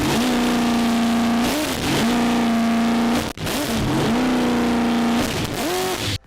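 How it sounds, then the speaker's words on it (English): CBM Motorsports Whipple supercharged LS engine revving hard in repeated loud pulls, the pitch climbing and dropping between bursts, close and alone with no talk. "my CBM Motorsports Whipple Supercharged LS is one of the most badass sounding motors in the world."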